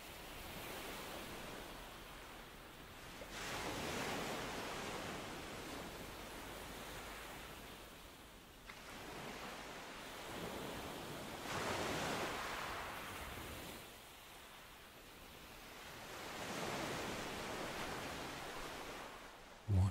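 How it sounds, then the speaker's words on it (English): Ocean surf rolls in and recedes in slow, broad swells, three soft waves building and fading over a steady hiss, with no voices. "Let yourself become one with the gentle curl of the waves"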